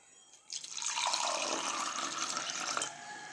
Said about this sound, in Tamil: அதே கப்பால் ஒரு 1/2 கப் அளவுக்கு தண்ணி சேர்த்துக்கிறேன்.